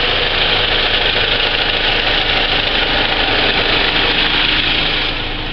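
A 2002 Chevy Cavalier's 2.2-litre four-cylinder engine idles steadily, a constant close mechanical hum and rumble with no talking.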